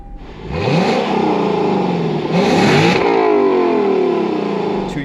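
A 2024 Lexus LC 500 Convertible's 5-liter V8 starting up: a short cranking catch, then two sharp revving blips climbing and falling before settling into a strong idle, loud and near.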